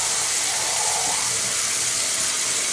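Water runs steadily from a tap into a sink for grooming a beard, a constant soft hissing wash with no voices.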